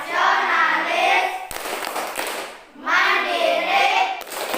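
An elementary school class claps together in a rhythmic classroom clapping chant led by the teacher, close and loud, with children's voices chanting in bursts between the clapping.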